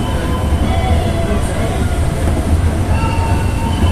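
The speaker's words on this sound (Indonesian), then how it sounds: "ini ada lokomotif untuk membawa kita ke ke kawasan luar kota Jakarta." A train locomotive passing through a Jakarta station, a loud and steady rumble with wheel noise and faint squeals throughout, close by.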